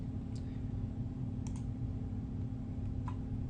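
A few sharp computer mouse clicks, quiet and close, spaced out over a low steady background hum, with no speech during the clicks.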